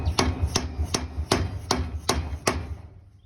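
A 1750 lb 5-stud trailer hub is tapped onto its spindle, giving seven evenly spaced sharp metallic knocks at close range, alone and fading out after the last strike.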